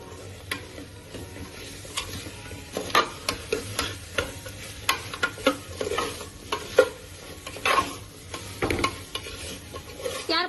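Soaked chickpeas being stirred with spices in a hot pan for chole, with repeated scraping and clattering strokes over a steady sizzle, fairly close and with no talking.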